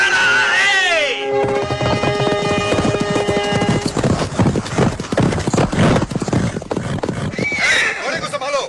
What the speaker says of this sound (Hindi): घोड़े को संभालो।